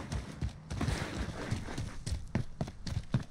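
Rapid hoofbeats clatter in an uneven rhythm as a horse gallops in a video game, fairly close and continuous for a few seconds.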